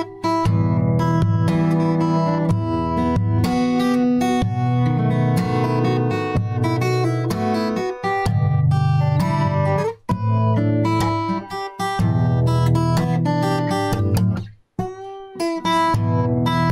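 Guitar playing classical-style music, dense and continuous with chords and melodic runs, close and loud, with brief pauses near the end and no talk.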